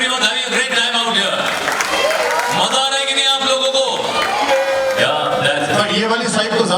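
Audience applause and crowd noise at a Mrs. India Queen grand finale pageant, applauding the jury members, steady and loud with music or voices running through it.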